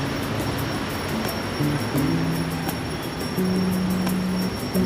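Palembang LRT light rail train at Dishub station, a steady rumbling rail drone with low humming tones shifting over several seconds, continuous and fairly close, with no voices.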